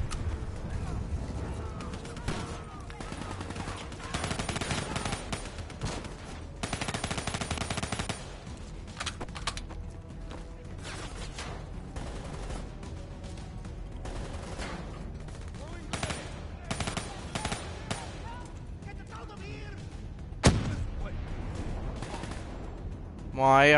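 Rapid automatic gunfire and scattered shots from the Call of Duty Black Ops 3 campaign ring out continuously for over twenty seconds, dense bursts layered with game effects while people talk over the action.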